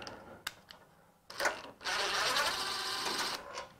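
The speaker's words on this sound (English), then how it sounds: "we're just going to take these three star bolts down" Star bolts come off a 2021 Ford Bronco fog light bracket. A couple of faint clicks are followed by a sustained buzzing run of a powered driver, close by, then it stops.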